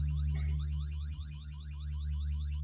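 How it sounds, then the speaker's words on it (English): A house alarm wails in the VEIN zombie survival game, a fast repeating electronic warble cycling over a steady low hum, moderately loud and alone. "House alarms now flash when active."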